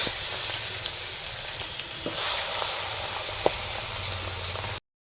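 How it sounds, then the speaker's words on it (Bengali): Rohu fish head frying in hot mustard oil in a wok, a steady close sizzle and hiss running throughout with a few faint clicks of the pan, no voices. "এবার কড়াইয়ে মাছটা দিয়ে দেবো।"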